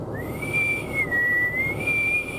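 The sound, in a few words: person imitating a whistle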